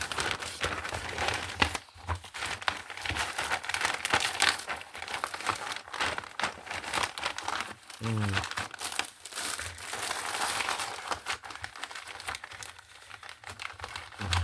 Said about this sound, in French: Ça vous fait un petit peu de bruit, j'en suis désolée. Parce que le papier, il est bien froissé.